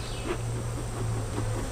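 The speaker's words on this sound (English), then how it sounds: "Look at those bees. Lots of them." Dense honeybee buzzing rises from a hive being split, a steady close drone of many bees under low hum with no voices.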